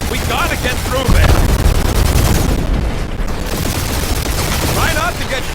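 Rapid turret gunfire and blasts in a spaceship dogfight in the Marvel's Guardians of the Galaxy game, loud, continuous volleys filling the whole stretch, with voices calling out now and then over the barrage.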